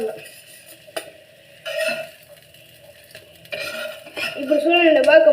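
Fish fries on a flat pan with a moderate sizzle, broken by scraping and clinking of a utensil against the pan. The sizzle swells louder toward the end.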